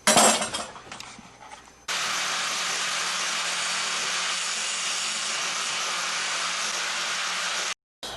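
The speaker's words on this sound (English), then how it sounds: "I don't have a grinder, so I'm just going to use a Makita." A Makita power tool grinds down a metal fishing hook for halibut fishing, a sudden loud steady whine after a short lead-in of handling noise, cutting out briefly near the end, with no talking.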